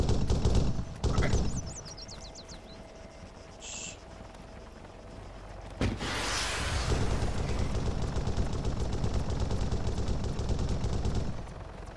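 Gunshots in Arma 3 during a King of the Hill match ring out as a few sharp cracks early on, then a long rolling volley of distant fire and rumbling echoes follows.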